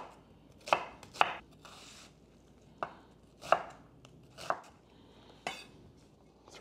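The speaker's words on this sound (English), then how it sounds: "I'm going to cut my onion." A knife chops through an onion on a cutting board in six sharp, separate knocks spaced irregularly about a second apart, close and crisp against a quiet kitchen background.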